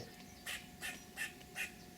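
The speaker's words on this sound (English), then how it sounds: "you can hear yet another squirrel squawking away" A squirrel squawks from somewhere in the trees, giving four evenly spaced, sharp raspy calls over two seconds, fairly faint and distant against a quiet outdoor backdrop.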